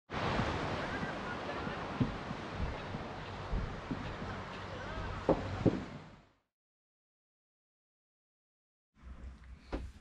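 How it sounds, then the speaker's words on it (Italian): Sea waves wash in a continuous close surf roar with wind buffeting the microphone, then the sound cuts out to silence before a brief return near the end. "oggi dormiamo col rumore delle onde del mare"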